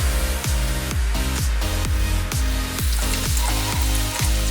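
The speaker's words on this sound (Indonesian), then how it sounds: "Emak tumis dulu bumbu irisnya sampai harum ya." Sliced seasonings of shallot, garlic and red chilli are sautéed in a pan, with a loud constant sizzle broken by repeated rhythmic knocks of a spatula against the pan, close and without talk.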